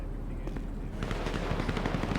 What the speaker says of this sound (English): Based off those gunshots